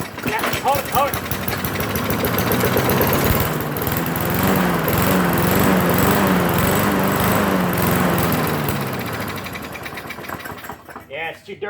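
An old lawn mower that sat unused for four years starts and runs, its small engine buzzing steadily and loudly for about nine seconds before sputtering and dying out, with voices talking over it.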